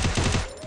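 Gunfire in a competitive 4v4 shooter video game match: a quick rapid burst of shots up close, then it tails off within a fraction of a second.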